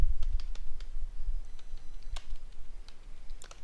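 Quick bursts of typing on a computer keyboard while coding a React form, close crisp key clicks in irregular clusters with short pauses between, no voice heard.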